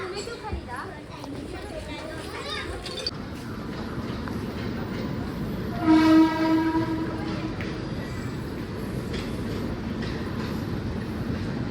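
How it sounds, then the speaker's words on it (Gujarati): A Mumbai local train rumbles in with a continuous rolling clatter, and a loud horn blast sounds midway; people talk over the noise throughout. "લોકલ ટ્રેન આવી છે"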